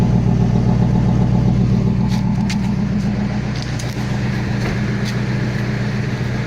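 A Toyota Celsior with its rear mufflers deleted but front mufflers kept idles close by, a loud, steady, deep engine drone with a few faint clicks over it.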